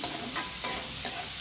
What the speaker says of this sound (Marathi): कांदा गोल्डन ब्राऊन होईपर्यंत भाजून घ्यावी.